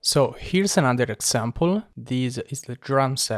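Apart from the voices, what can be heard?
No distinct noise like a dog, phone or traffic.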